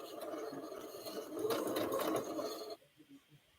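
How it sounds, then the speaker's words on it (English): A sewing machine stitches a quilt block in a brisk, close run that ends abruptly, followed by a few faint handling taps. "I'm sewing just on the right side of the line"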